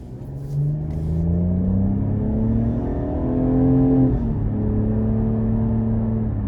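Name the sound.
2020 Cadillac CT6 3.6 AWD accelerating on test drive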